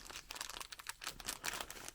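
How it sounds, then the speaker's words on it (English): A plastic bag crinkles and rustles continuously as it is handled carefully at close range, with no voices. "I don't want to tear the plastic bag"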